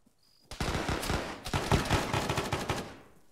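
Enemy rifle fire from a rooftop in a military shooter game crackles in dense bursts, rapid overlapping shots that rise and trail off over a few seconds, fairly close and with no voices.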